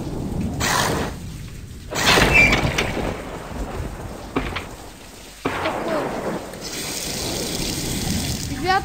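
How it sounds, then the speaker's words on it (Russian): Toilet flushing in a bathroom inside the Dom 2 video game, a rushing watery burst that swells in waves over several seconds, loud and close, with faint speech underneath. "Вот, ребята, туалет сейчас смывается."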